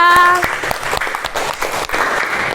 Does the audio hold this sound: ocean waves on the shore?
no